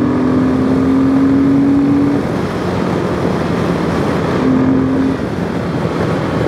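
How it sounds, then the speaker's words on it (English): A Royal Enfield Himalayan 450 motorcycle on the highway, its engine droning loudly and steadily under heavy wind rush, with a faint tonal whine rising briefly. "you just pull the throttle"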